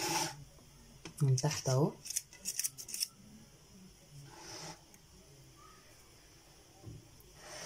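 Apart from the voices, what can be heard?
parchment baking paper being laid in a tray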